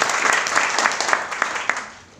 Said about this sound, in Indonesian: boleh berikan tepuk tangan Tuhan.